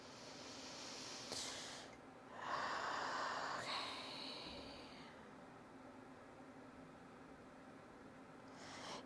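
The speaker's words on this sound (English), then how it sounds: "Let's take a deep breath together." A slow, deep breath drawn in and let out during a calm meditation, soft and airy with a gentle rush of air, close and quiet, then fading into near silence.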